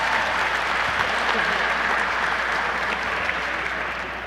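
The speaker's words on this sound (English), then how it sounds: "We can't clap enough." A gala audience at the American School of Classical Studies gives steady, full-room applause for an honoree, a continuous wash of clapping that holds at an even level before easing slightly near the end.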